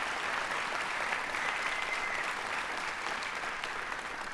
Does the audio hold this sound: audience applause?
yes